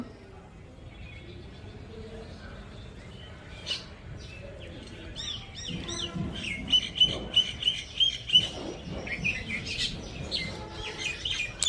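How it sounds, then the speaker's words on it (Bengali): Small birds chirp and tweet in quick, scattered bursts on an open rooftop, growing busier partway through, over faint background noise and distant voices. "তার নিচে পাখির কিচিরমিচির আওয়াজ"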